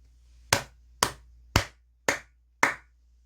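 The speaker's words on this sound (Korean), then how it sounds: "크게 박수 한번 치고 가도록 하겠습니다" Five separate, crisp hand claps, evenly spaced about half a second apart, close and distinct against near silence.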